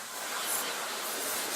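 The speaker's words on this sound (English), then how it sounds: "I'm just going to spray these all over with white." An airbrush sprays white paint over practice nails in a steady, even hiss that runs throughout with no pauses or talk.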